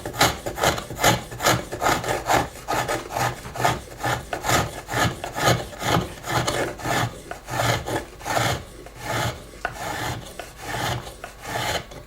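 A homemade scratch stock made from a broken hacksaw blade scrapes a bead into wood in steady rhythmic back-and-forth strokes, each a close, raspy scrape, repeating about twice a second.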